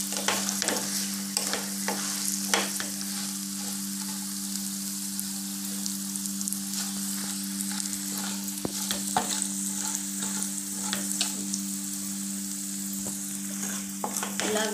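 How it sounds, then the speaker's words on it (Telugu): Curry leaves frying in oil in a pan for lemon rice, a steady close sizzle with scattered crackles and spatters while they are stirred, alone without talk. "చూడండి కరివేపాకు కూడా చక్కగా వేగిపోయింది కదా"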